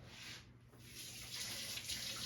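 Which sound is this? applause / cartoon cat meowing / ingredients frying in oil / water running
water running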